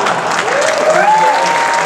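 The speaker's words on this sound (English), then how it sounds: "give a round of applause for you." Live-show crowd applause, steady and fairly loud throughout the short stretch, with a tonal whistle-like sweep rising over the clapping.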